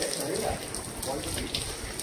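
Rain patters and hisses steadily at a Durga festival gathering, moderately loud, with a few sharper drips, and voices faintly present underneath.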